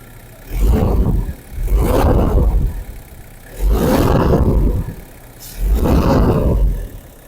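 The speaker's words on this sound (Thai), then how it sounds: "เดี๋ยวลองเบิ้ลให้ดูนะครับ" A Toyota Commuter van's 5L diesel engine revs hard four times in a steady rhythm, each roaring surge lasting about a second before dropping back to a low idle, loud and near.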